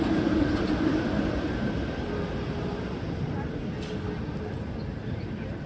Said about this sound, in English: Vintage streetcar.